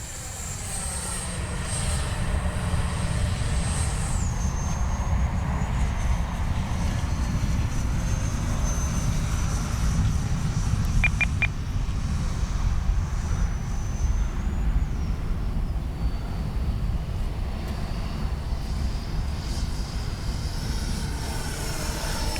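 HobbyKing Viper 64 RC model jet flying slowly overhead, a steady whining ducted-fan drone with a high tone that shifts in pitch as it passes, sustained and fairly loud throughout.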